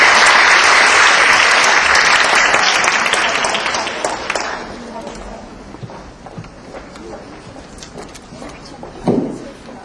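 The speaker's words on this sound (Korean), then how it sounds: "뜨거운 박수로 맞이해 주시기 바랍니다." A debate competition audience at a university hall claps to welcome a judge to the stage, loud sustained applause that fades after a few seconds into room noise, with a brief knock or shuffle near the end.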